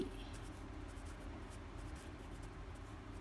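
A pen scratches quietly on paper while working a maths exercise, a faint, soft scribbling that continues unbroken for a few seconds.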